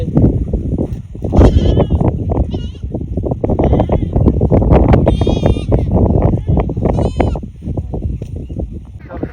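Goats bleat in a few short wavering calls on a char river-island farm in the Padma–Jamuna area, close by and fairly loud over steady outdoor background noise with voices.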